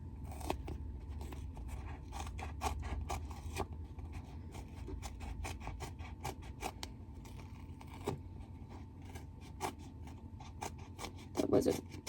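Scissors trim mask material for a Samoyed therian mask in a run of close, faint snipping and rustling strokes, with a quiet voice talking now and then.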